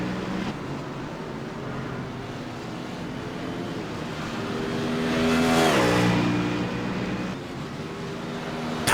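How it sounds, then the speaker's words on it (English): A GT3 race car on the lead lap at Brands Hatch roars past, its engine note swelling as it approaches and dropping in pitch as it passes, loud and steady with no talk. "Looking at the last car on the lead lap, Paul Lonergan."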